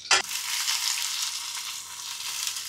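Cumin and garlic frying with onion in hot oil in a pan for a mutton dish, a steady close sizzle after a sharp initial clatter, continuous and alone without speech.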